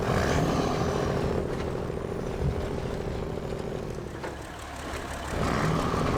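A truck engine roars steadily in the off-road driving game Snowrunner, a loud continuous low drone with a brief dip toward the end before swelling again, no voices.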